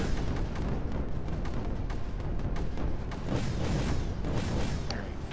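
Cannons fire in Creeper World 4 as a dense, continuous barrage of booming blasts and crackling bursts, loud and sustained without pause.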